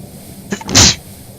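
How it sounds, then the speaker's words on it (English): One sharp sneeze sounds close and loud, a short intake followed by a burst lasting under half a second. "Sneeze."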